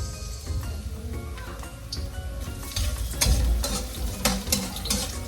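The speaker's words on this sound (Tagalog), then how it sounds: "Next, lalagyan na po natin ang bawang at sibuyas." Garlic and onion sizzle steadily as they fry in a pan for a sinigang sa miso, with some scraping and stirring clatter. The sound grows louder and denser toward the end.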